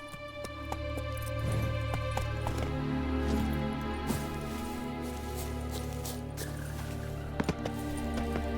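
A horse in The Witcher 3 moves at speed, a faint, fairly regular clip-clop of hooves under sustained tonal music, with a couple of sharp knocks near the end.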